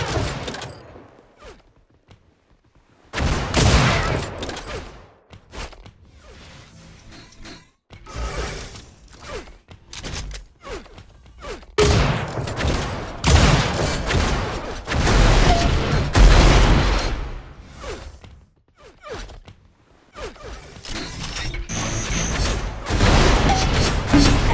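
Unreal Tournament competitive match with repeated rocket launches and explosions, bursts of booming blasts and rapid gunfire in dense clusters separated by brief quieter gaps, loud and close throughout.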